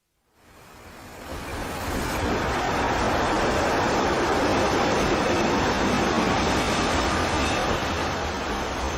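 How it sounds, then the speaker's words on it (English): A train pulls into a station, its broad rumbling roar rising out of silence over the first seconds and then holding loud and steady, with no voices over it. "Soon the train came."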